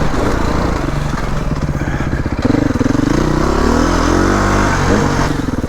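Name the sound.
enduro motorcycle engine revving on a hill climb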